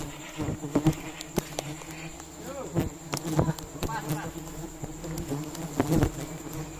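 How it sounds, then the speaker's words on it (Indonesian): A swarm of bees buzzing around a honeycomb during a honey harvest in a South Sumatra mangrove forest, a continuous droning hum with sharp knocks and handling noises over it, close to the microphone. "Kalau banyak lebah yang turun banyak seperti ini."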